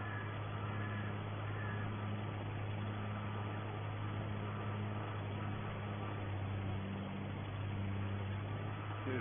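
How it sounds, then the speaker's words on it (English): A farm tractor pulling a fairly large spreader runs steadily nearby, giving a continuous mid-pitched engine drone with a constant low hum that holds evenly throughout, with no voices over it. "show you the tractor in action"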